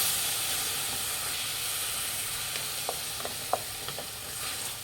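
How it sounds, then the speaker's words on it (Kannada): Masala frying in a pan over a low flame for a wedding-style cabbage and Kabul chana palya: a steady soft sizzle and hiss, with a few brief stirring clicks toward the end and no voices. "ಮಸಾಲೆ ಹಾಕಿದ ಮೇಲೆ ಲೋ ಫ್ಲೇಮಲ್ಲಿ ಇಟ್ಟು ಫ್ರೈ ಮಾಡಬೇಕು"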